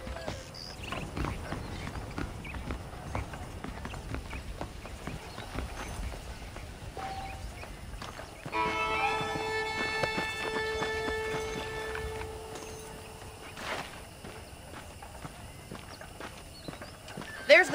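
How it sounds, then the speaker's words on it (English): Saddled horses in the Red Dead Redemption western game clip-clop at a steady walking rhythm, with a brief neigh and game music or ambience over them in the middle stretch, at moderate level. "The horses are saddled up over here."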